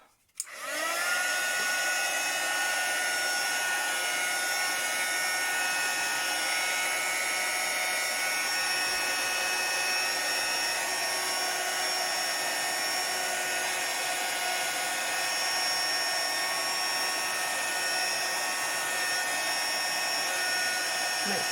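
A heat tool blowing to dry paint or ink on a notebook cover, a steady, loud continuous whir that starts abruptly and holds unchanged for about twenty seconds, close by.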